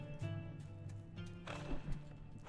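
Horses in the online game Anarchy Online give a few close clip-clop hoofbeats and a brief whinny over a humming background.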